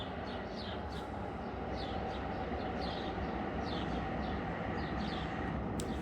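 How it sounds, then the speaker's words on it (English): A train passes by in the inner city, a faint steady low rumble heard from a distance, with occasional bird chirps over it. "oh, that's a train passing by."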